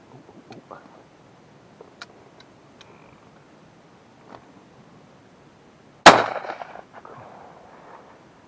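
A single loud, close shotgun blast fired at pigeons in the countryside cracks out alone and then decays with a short rumbling tail, preceded by faint scattered ticks and rustles.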